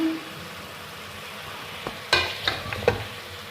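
Spices such as turmeric and red chilli being stirred in a cooking pot for aloo gosht, a steady low sizzle broken by a few close spoon knocks and scrapes near the end.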